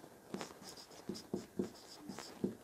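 Chalk or marker writing on a board during a maths lesson, a series of short taps and scratchy strokes in an irregular rhythm, close and fairly quiet with no talk over it.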